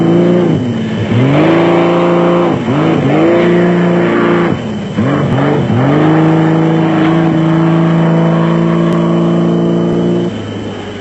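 Off-road race cars in the 1997 Toyota 1000 roar loudly past, engines revving up and shifting through gears in repeated rising whines, close and continuous.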